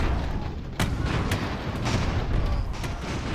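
Cannon fire and explosions crack and boom over a dense, continuous rumble of battle in the airship strategy game Airships: Conquer the Skies, with sharp sudden blasts spaced irregularly.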